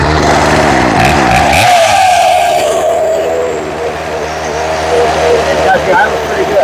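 Craftsman chainsaw engine starting up on full choke, then running loud and close with revving and wavering pitch before settling.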